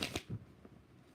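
Tarot cards are shuffled by hand in a few quick riffling bursts, close and faint, the last softer flutter trailing off into quiet.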